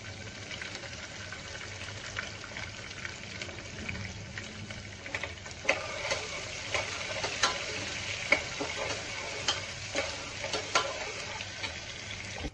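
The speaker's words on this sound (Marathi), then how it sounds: "आता जोपर्यंत आपले कांदे शिजतात आहेत" About two chopped onions with lentils fry in a pan, giving a steady, close sizzle with frequent scraping clicks as they are stirred.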